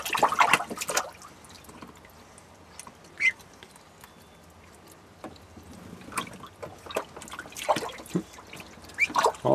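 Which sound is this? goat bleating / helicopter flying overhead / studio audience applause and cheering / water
water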